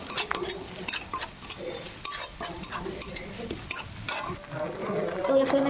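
Onion and spices stirred and fried in a pan for a pakoda curry, with a soft sizzle under repeated scraping and clinking of a spoon against the pan, close and fairly quiet.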